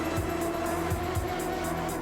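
A Formula Indy race car crashes with its tires skidding, a loud sustained engine whine layered over repeated short squealing bursts and thumps, no voices.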